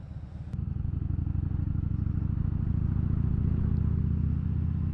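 A Harley-Davidson Dyna Fat Bob (FXDF) motorcycle being ridden gives a deep, steady throbbing rumble close by. It grows slightly louder and fuller as the ride continues.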